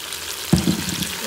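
Onions, peppers, carrots and tomatoes fry in oil in a pan while browning, with a steady close sizzle and a brief stirring or scraping burst midway, no voices.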